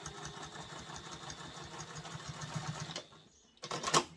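A sewing machine stitches slowly over the thick seam of a diaper bag's front pocket, running steadily and close for about three seconds before stopping, then starting again in a short final burst.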